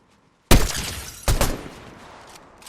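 Two sharp, loud gunshot blasts come from a Fortnite match about a second apart, each trailing off into a brief ringing decay.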